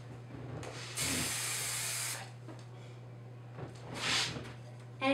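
Instant freeze hairspray sprayed in two bursts: a steady one-second hiss up close, then after a pause a shorter, softer puff, over a low steady hum in a quiet room.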